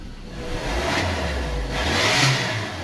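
Ford Ranger engine with a recurring powertrain warning light, revving up under acceleration: a loud low rumble rising in pitch with a couple of swells in intake roar, heard up close.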